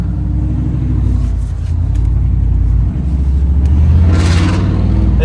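A big block Chevy engine in a 90s truck with no exhaust on it, revving loudly and close with a deep raw rumble, swelling to a harsher peak near the end.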